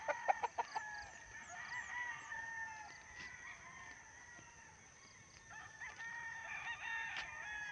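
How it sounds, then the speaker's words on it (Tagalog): Chickens on a Filipino poultry breeding farm cluck steadily and a rooster crows, heard at moderate distance against a quiet ambient background with a few sharp calls at the start. "Dito po sila nagpapalahi ng manok."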